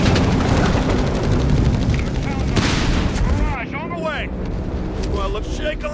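An artillery barrage rumbles and crashes in a Company of Heroes 3 battle, with dense overlapping booms and gunfire up close, then a softer stretch where whistling shells and distant blasts continue under voices.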